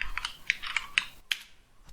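Computer keyboard keys clicking in a short burst of about six sharp, fairly close taps at an irregular typing rhythm, with brief pauses between strokes and no voice.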